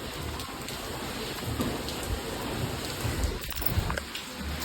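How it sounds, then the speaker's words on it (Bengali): Heavy rain pours down in a steady, dense hiss that drowns out everything else. Nobody speaks. "এক্ষুনি রোদ উঠছে এক্ষুনি বৃষ্টি শুরু হয়ে যাচ্ছে দেখো আবার ঝমঝমিয়ে নামলো"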